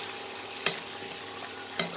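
Chopped capsicum and onion stir-fried in a pan, a faint steady sizzle broken by two sharp scrapes of a spatula.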